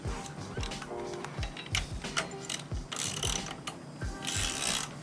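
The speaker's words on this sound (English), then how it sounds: "It's going to be 9/16, and we're just going to thread it in there." A ratchet threads a 9/16 bolt into a motorcycle crash cage bracket on a Yamaha MT-07, producing rapid close clicking bursts with brief pauses and metallic rattles, no talk.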